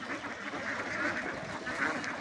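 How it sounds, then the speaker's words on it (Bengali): A flock of ducks on a duck farm quacking as they gather for feed, a busy continuous chatter of quacks heard at moderate distance over steady outdoor background noise. "হাঁসকে এখন খাবার দিচ্ছে"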